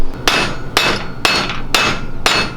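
A mallet drives an axle into place on a Coleman DT200 mini trike, giving five sharp, evenly spaced metallic whacks about half a second apart, close and loud with no talking.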